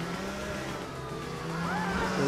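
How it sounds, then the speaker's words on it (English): A car engine in GTA 4 drones steadily and then revs upward, its pitch climbing and growing louder toward the end, with tire noise and no voices. "I will run you over with this car."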